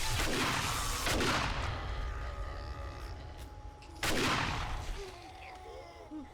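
A shotgun fires twice in the video game 7 Days to Die, each shot a loud, heavy boom that rolls off slowly, with a few seconds of quieter game sound between them.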